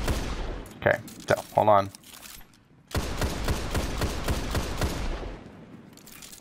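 Automatic fire from The Last Word in a video game, shot from the hip with no aiming down sights, comes as dense rapid bursts. There are a couple of short volleys early on, then a longer sustained stream, with a voice talking over the start.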